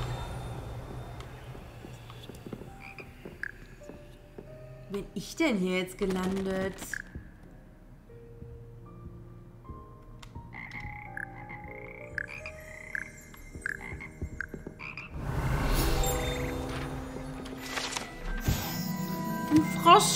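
A choir of frogs in the Hogwarts Legacy game croaks in rhythmic, melodic bursts, moderately close, interleaved with a person talking and a louder burst of game sound near the end.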